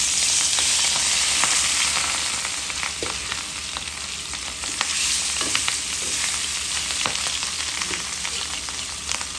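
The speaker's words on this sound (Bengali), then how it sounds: "মাছ ভাজার জন্য দিয়ে দিলাম মাছটা।" Rui fish frying in hot oil for a cauliflower and potato fish curry, a loud continuous sizzle with crackling pops and occasional stirring clicks, close and without speech.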